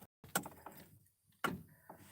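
Car glow plug relay clicking: two sharp, close mechanical clicks about a second apart, with quiet pauses and no voices.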